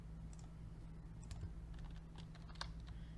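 Typing on a computer keyboard while entering a code in an SCP site map game, a scattering of quiet key clicks over a low steady hum, faint and fairly close.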